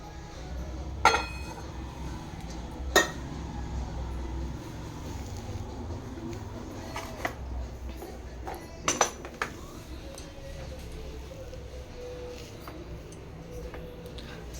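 A metal kadhai is set down and handled on a kitchen stove, giving a few sharp clanks and clinks spread apart over a quiet, faint background hum.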